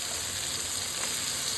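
Spice paste frying in a pan of hot oil gives a steady, dense hiss that holds evenly through the brief moment, close and moderately loud, with no voices.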